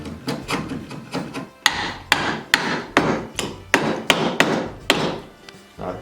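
A chisel driven by mallet strikes into an angled wooden dovetail joint, about a dozen sharp, close knocks at a steady pace, each followed by a short scraping rasp of wood.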